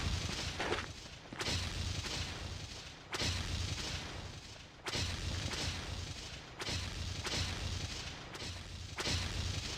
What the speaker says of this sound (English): someone is throwing grenades, that's for sure.